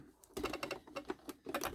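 A zipper slider is run along the closure of a small poop bag pouch, making a quiet, rapid series of ticking clicks close to the microphone.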